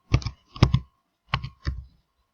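Four sharp, close mouse clicks in a spreadsheet program while cells are locked and a worksheet is protected, coming in two quick pairs separated by a brief pause.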